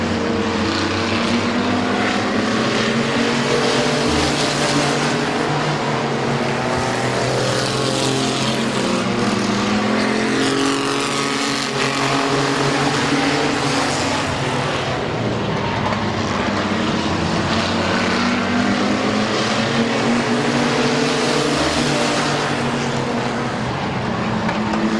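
Race cars run laps at Midvale Speedway, their engines a constant loud roar that swells and fades as the pack passes, with no voices heard.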